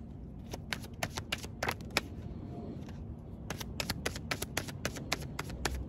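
Tarot cards being shuffled by hand, quick crisp riffling bursts and taps in two runs separated by a short pause, close and fairly quiet with no talk.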